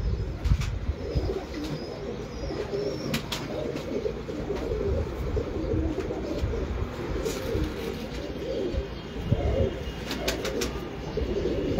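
Pigeons coo steadily in a home loft, a dense low murmur of overlapping calls from several birds nearby, with occasional sharp clicks and rustles over the continuous cooing.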